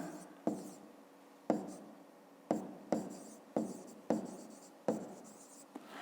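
Pen strokes writing out a fifth-grade math answer on paper, a run of distinct close scratching strokes, each starting sharply and fading, separated by short pauses, with no voices.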